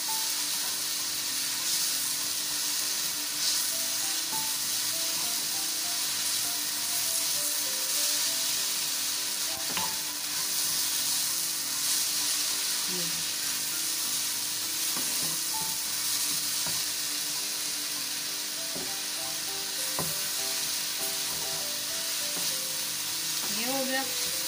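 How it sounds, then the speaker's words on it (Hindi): Paratha filling stirred and fried in a lightly oiled pan: a constant close sizzle with soft, irregular spatula scrapes and occasional taps running throughout. "अब हम इसको करेंगे मिक्स अच्छे से"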